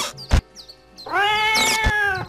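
A cat meows in the horse-riding video game Dein erstes Pferd, a long drawn-out harmonic meow rising and holding, preceded by short soft chirps and two sharp thumps.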